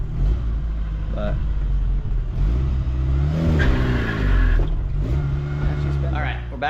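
A Geo Tracker's engine runs steadily while driving, with a low, continuous hum and slight rises in revs. Someone talks over it.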